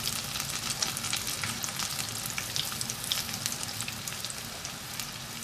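Onion rings deep frying in hot oil for homemade Burger King-style rings, a loud, steady dense sizzle with crackling pops throughout, close up and with no talking.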